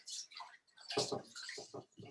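Rice being washed in water at home, with close swishing, splashing and dripping sounds in uneven bursts, fairly quiet overall.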